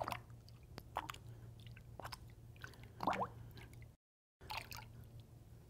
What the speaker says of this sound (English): I'm just going to take this eyepiece and kind of swoosh it around in the water